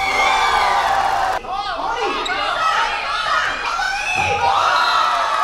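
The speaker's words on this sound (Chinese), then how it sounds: "让现场加油声不断，掌声欢声雷动" Crowd cheering and whooping at a 3-on-3 basketball exhibition game, a steady roar of shouts and children's voices with a basketball bouncing.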